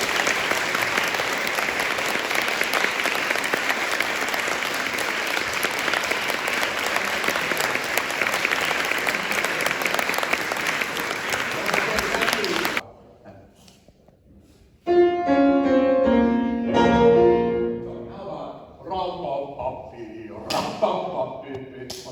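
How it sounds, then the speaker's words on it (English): An audience at a piano concerto masterclass applauds loudly and steadily for about thirteen seconds, then the clapping stops and piano playing with a few voices and thumps follows. "Let's give Tony a big applause."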